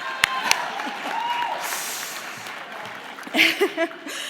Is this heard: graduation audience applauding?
yes